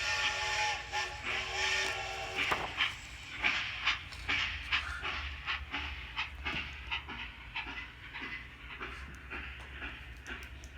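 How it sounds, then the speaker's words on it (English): A steam train lurches and starts moving with loud rhythmic chuffing and a low rumble, a whistle-like tone at the start, the puffs repeating steadily as it gets under way. "the train gave a sudden lurch and started moving"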